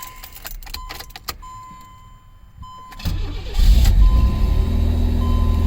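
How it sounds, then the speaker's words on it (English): A Pontiac Fiero's engine cranks and fires up inside the car after a few quiet clicks and key jingles, then settles into a loud, steady idle close by. "let's go ahead and start the car"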